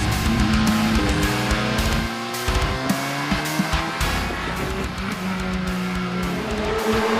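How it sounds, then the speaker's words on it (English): A 2018 Volkswagen Vento TC4-A race car on track, its engine loud and close, revving through rising and falling gear changes with tire squeal and brief dips between shifts, continuous throughout. "today I get to drive the new Volkswagen Vento race car"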